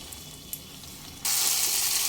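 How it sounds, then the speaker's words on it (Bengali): Sliced potatoes and okra fried with spices over a low flame: after about a second of near quiet, a steady, loud hissing sizzle suddenly starts and holds without a break. "ভেন্ডি আলু সমস্ত মশলার সঙ্গে এক মিনিট নেড়ে চেড়ে লো ফ্লেমে একটু কষিয়ে নেব"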